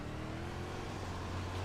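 A World of Outlaws 410 sprint car engine drones in iRacing on a dark dirt track at night, a steady low rumbling tone that rises slightly in pitch and stays constant throughout.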